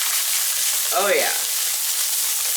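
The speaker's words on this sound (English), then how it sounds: "Now I'm just cooking these green peppers for just a couple minutes." Green peppers cooking in a hot pan give a steady, close sizzle that runs throughout, with a short voiced interjection briefly rising over it in the middle.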